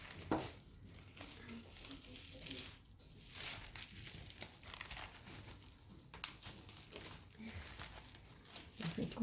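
Paper crinkles and rustles steadily as an item is wrapped, close and soft, with a few sharper tearing crackles.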